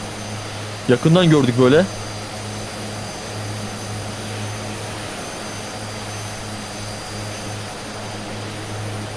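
An airplane engine droning steadily at close range in a flight video game near Mount Ağrı, a continuous loud hum throughout, with someone briefly speaking over it early on.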